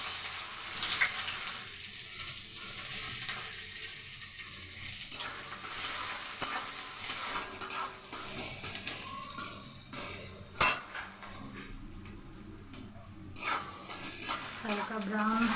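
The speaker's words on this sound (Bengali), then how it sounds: "দিয়ে দিচ্ছি পেঁয়াজ কুচি," Chopped onion goes into hot oil with cumin seeds, bringing a moderate sizzle broken by stirring, the scrape and clink of a utensil against the pan, and brief clattering bursts.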